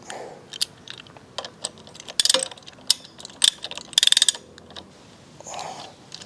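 Screws are tightened on the front fork of a Yamaha LC 135 V2 motorcycle during a leaking-fork service, giving a run of close, sharp ratcheting clicks and short metallic bursts with quiet gaps between them.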